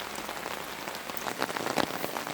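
Heavy rain pours down steadily over a flooded yard in the Carpathians, a dense, even hiss of drops drumming on surfaces and running water, close by and without voices.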